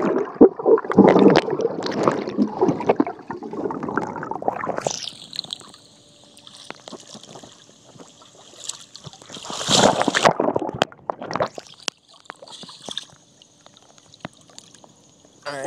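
Water sounds from swimming underwater with an iPhone in a waterproof skin: bursts of splashing and sloshing alternate with muffled quiet stretches and high whining tones, loud near the start and again midway.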